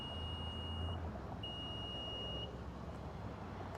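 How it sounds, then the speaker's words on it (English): A 2023/2024 Infiniti QX55 tailgate sounds a few thin electronic beeps while its height setting is stored, faint over a low background hum with no talking. "You're going to get a couple of beeps just like that"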